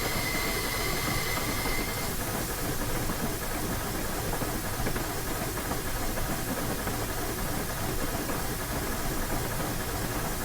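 A steam locomotive in Train Simulator 2016 building up steam on a snowy Clear Creek run from Silver Plume to Golden, heard as a steady, loud, unbroken hiss and rumble with no pauses.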